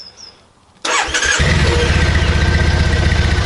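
A Triumph Bonneville twin motorcycle engine cranks briefly after a quiet moment, then fires and settles into a loud, steady, throbbing idle close by.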